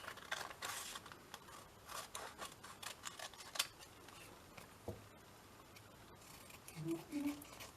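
Scissors cutting out paper pieces for a craft pocket pack, quiet and close, with scattered crisp snips and small rustles at irregular intervals and a few faint voice sounds near the end.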